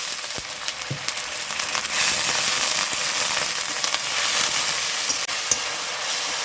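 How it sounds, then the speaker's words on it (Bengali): A loud, steady sizzle and hiss as water is added to cabbage kofta paste of tomato, ginger, green chilli and cashew frying in a pan and stirred, with occasional spoon scrapes and no talking. "হালকা একটু করে জল দেবো আর নাড়বো।"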